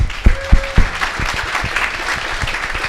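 An audience breaks into applause at a startup speaker series talk, a steady crowd of clapping held for several seconds with faint talk underneath.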